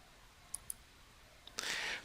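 A computer mouse gives two quick, faint clicks, followed moments later by another soft click and a brief burst of light rustling.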